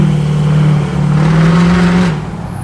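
A 2007 Ford F-350 Outlaw with a PowerStroke diesel engine revs hard, a loud, deep, close roar that climbs, dips briefly, then holds high before easing off.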